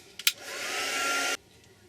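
A hair dryer blows on a card to dry gold paint, starting with a short clack and running steadily for about a second before cutting off abruptly, close and alone.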